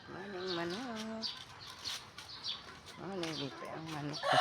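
Chickens cluck and call near a house on a rainy morning, with a few bursts of calls. A person speaks in between, and the sound stays quiet overall.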